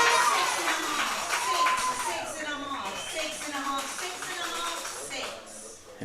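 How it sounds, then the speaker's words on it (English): Spectators cheer at a junior girls' 10 m platform diving final, making a broad, sustained roar of voices and some clapping that fades gradually over several seconds. "Hear a very loud cheer from the crowd."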